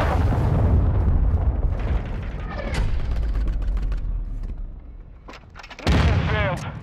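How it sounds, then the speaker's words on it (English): A cruise missile strikes in Call of Duty: Modern Warfare II, with heavy booming explosions and rumbling blasts rolling over continuous battle noise, then a second loud impact near the end. "Hostile cruise missile incoming."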